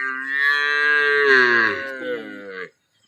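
A single long, loud moo from a cow in a cattle shed in Ankampalli village after a lightning strike killed many cows, heard alone and trailing off after about two and a half seconds.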